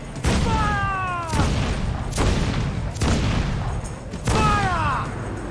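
Ship's cannons fire a broadside in a rolling volley of heavy booms, with several shots landing close together near the start and again toward the end. Shouted commands and other voices carry over the blasts.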